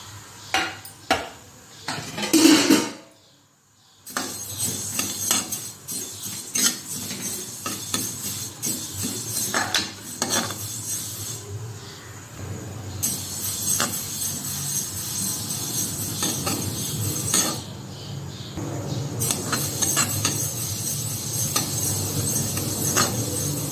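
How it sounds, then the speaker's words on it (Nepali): Sesame seeds roasting over medium heat in a kadai, with repeated scraping and clinking of a spoon stirring against the metal and a light sizzle. There is a short pause early on, then steady stirring. "तिललाई भुट्छु।"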